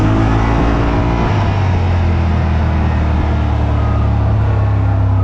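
A 2025 Yamaha Wolverine RMAX 1000 side-by-side drives around a corner, its engine a loud, steady low drone with rumbling road noise heard from inside the cab, with no talking.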